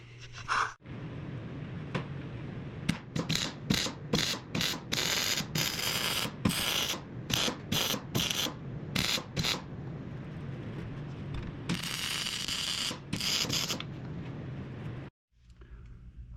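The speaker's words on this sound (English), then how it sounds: "So I'm gonna weld that off right there" Welding on a lawn mower muffler, heard as bursts of crackling, sputtering arc noise starting and stopping in irregular runs, with short pauses between welds and a sudden cutoff near the end.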